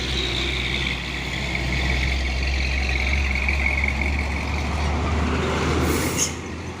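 A Fuso truck idling or rumbling nearby, a heavy continuous low-frequency engine drone holding steady throughout with faint higher mechanical whine layered on top.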